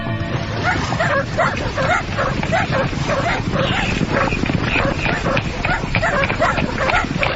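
A pack of hunting dogs barks continuously in a night-time ghost story, the overlapping barks loud and dense with no pause.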